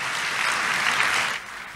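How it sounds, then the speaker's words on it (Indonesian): A church congregation applauds together during a sermon, dense and close clapping that holds steady before easing off near the end. "Yang percaya tepuk tangan buat Tuhan Yesus."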